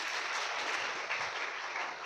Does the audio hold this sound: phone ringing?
no